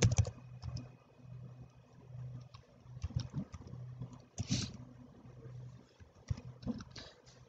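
Computer keyboard keys tapped in short bursts and single clicks while a case number is entered, close and quiet, with a low hum underneath.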